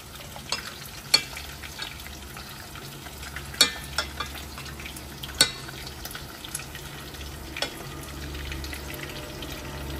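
Food sizzles and spits in a hot frying pan, a steady low crackle with a few sharp pops and bursts of spatter, with no talking.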